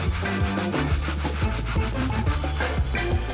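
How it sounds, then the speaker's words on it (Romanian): Glass jars being sanded by hand for a recycled-materials craft build give off a brisk, rhythmic rasping scrape, with quick repeated back-and-forth strokes close up and no talking. "Mai întâi, trebuie să șlefuim bine aceste borcane."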